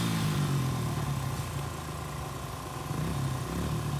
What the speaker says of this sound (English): It's a Honda. Of course it's going to wheelie.